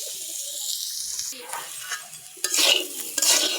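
Onions and chilies sizzle in hot oil while a spoon stirs and scrapes the pan, the frying flaring louder toward the end.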